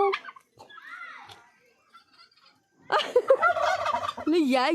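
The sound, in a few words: large fowl calling loudly, chicken-like bird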